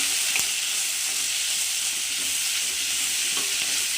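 Drumstick pieces sautéing in a hot pan for a Nagercoil-style Tamil lunch dish give a steady, close sizzle and frying hiss, with a few faint stirring clicks and no voices.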